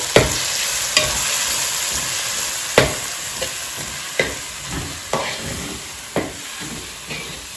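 Prawn biryani masala is stirred in a sizzling pan, steady frying hiss punctuated by about ten sharp scrapes and knocks of a spoon against the pan, close and clear.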